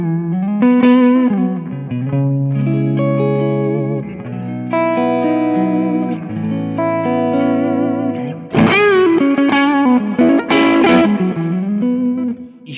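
Electric guitar through a Fender Brown Face amp, played as sustained chords and single notes at the edge of breakup, with light grit and a reverberant tail. The notes ring steadily and alone, with a sharper strum near the end.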